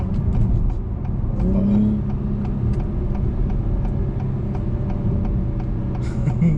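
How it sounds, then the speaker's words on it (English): An Acura TLX Type S engine pulls under acceleration, a fairly loud, steady mid-pitched growl heard from the cabin with no voices present. "This motor's putting in some work, man."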